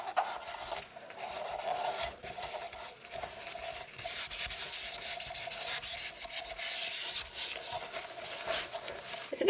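A magic eraser used with just water scrubs a white granite composite sink, producing a steady, close, gritty rubbing that continues without a break, with no talking.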